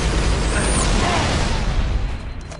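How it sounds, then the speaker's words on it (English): A sticky grenade blows up in Halo Reach, a loud, dense broadband burst with a whooshing tail that fills the moment and fades slightly at the end. "I love sticky grenades, by the way."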